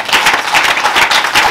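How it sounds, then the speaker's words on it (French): Rhythmic group clapping from a church congregation, a steady brisk beat of many hands close by, loud and continuous with no talk over it. "Applaudissons"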